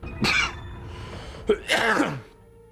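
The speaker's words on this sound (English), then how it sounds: "for those of you who are sticking around through the coughing" A person coughing twice, a harsh burst followed by a pause, then a short catch and a longer ragged cough, close and loud with no speech.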